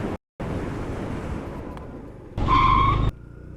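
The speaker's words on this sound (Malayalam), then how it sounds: "എന്നാലും ഒന്ന് ബ്രേക്ക് ചെയ്യട്ടെ." A TVS Jupiter scooter with a micro hybrid system rides outdoors with steady road and wind rumble, then brakes hard with a short, loud tyre squeal lasting under a second before the noise drops away.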